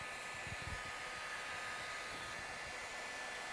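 A heat gun blows a steady, close airy roar while heating vinyl wrap film over the flat area and ridge of a vehicle panel during a wrapping job, with no speech.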